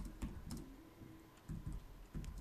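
Someone types a prompt on a computer keyboard in short bursts of close, soft key clicks with brief pauses between them, quiet and with no talking.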